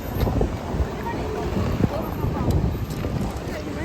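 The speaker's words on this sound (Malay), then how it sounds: "Sekarang cuaca sangat berangin." Strong wind buffets the microphone outdoors in Jakarta, a rough, gusty rumble that is steady and fairly loud throughout.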